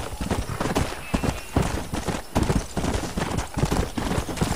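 Horse hooves gallop in Red Dead Redemption, a rapid, steady clip-clop rhythm that stays close and fairly loud over faint background game noise.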